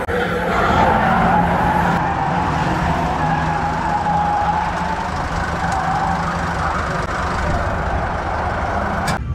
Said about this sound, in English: the car just spins out and stalls